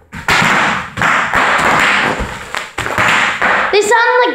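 Bubble wrap stomped underfoot at home, sharp loud pops in rapid bursts across a few seconds, close to the listener, ending with a high excited vocal sound.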